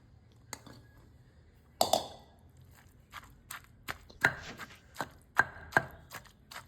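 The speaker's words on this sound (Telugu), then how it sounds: "ఇప్పుడు మనం అందులో బీరకాయ ముక్కలు మిగతా ముక్కలన్నీ వేసుకొని మెత్తగా మనం నూరుకుందాం" Ridge gourd pieces and tomato pounded on a stone grinding slab, giving a series of irregular dull thuds and scrapes, some sharper and louder, with quiet gaps between them and no talking.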